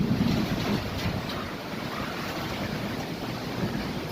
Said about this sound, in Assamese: বাপৰে, বতাহ আহি গ'ল গাইজ।